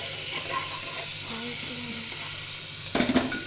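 Tomatoes added to onions frying in a pan over a high flame, a continuous sizzle with stirring, then a louder burst of hissing and clatter near the end.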